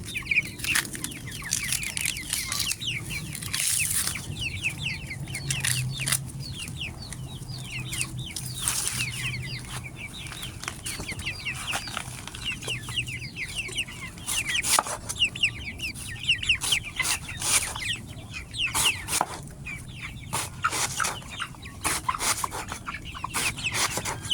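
Ducks and chickens cluck and peck close by, eating chopped banana plant stem, in a busy, continuous scatter of short sounds, with occasional wing flaps and no talking.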